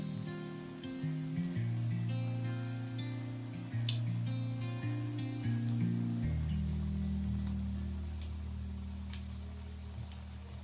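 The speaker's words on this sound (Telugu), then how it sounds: "పప్పులు కాస్త వేగిపోయాయి కదండి" Dals crackle in hot oil while being tempered for gongura pickle, a continuous patter of small ticking pops over steady background music.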